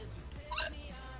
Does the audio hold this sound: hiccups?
yes